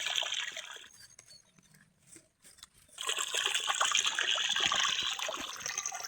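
Water flows into a rice paddy field with a steady rushing trickle. It dips to a quieter dribble for a moment partway through, then returns full and close.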